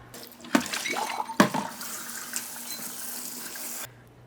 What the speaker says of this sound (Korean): 자, 그럼 남은 콩나물을 마저 잘 씻어 보겠습니다